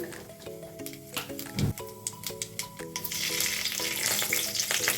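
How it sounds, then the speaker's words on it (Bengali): Dry red chillies and black cumin hit hot oil for a tempering, with crackling pops and spoon clicks in the pan before the sizzle swells into a dense, steady hiss close by. "এবার আমি দুটি শুকনো লঙ্কা আর একটু কালো জিরে ফোড়ন দিলাম"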